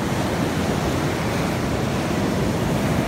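Sea waves on the shore at Gijón, Asturias, a loud, continuous broadband wash of surf with constant roar and wind-like rush, no distinct pauses between breakers.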